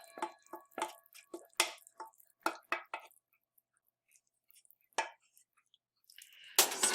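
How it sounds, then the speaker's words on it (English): Hot hard-candy syrup for glass candy is poured onto a cookie sheet, making a series of soft, wet drips and splats in quick bursts, then a pause and a few isolated drops before a louder rush at the end. "I'm going to pour the rest of my syrup out onto my cookie sheet."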